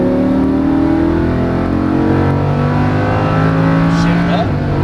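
A Lamborghini Huracan race car accelerates hard out of a corner, its engine note climbing loud and close through the gears, with a brief tire squeal.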